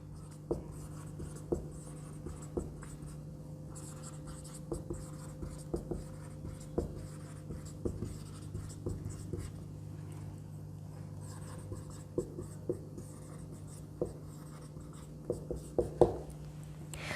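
Chemical formulas written by hand, a pen or marker tapping and scratching in short irregular strokes over a steady low hum, close and fairly quiet.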